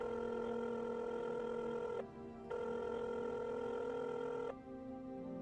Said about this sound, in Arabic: قلقت فكلمته على التليفون